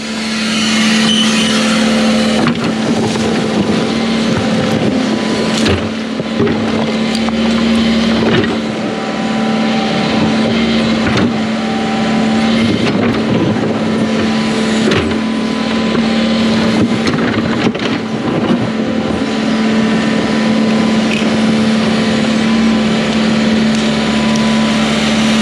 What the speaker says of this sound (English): we'll hop on the skid steer, pack some rock over here, get it leveled off